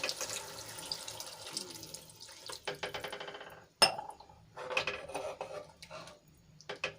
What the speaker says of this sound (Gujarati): હું એક ગ્લાસ જેટલું પાણી એડ કરીશ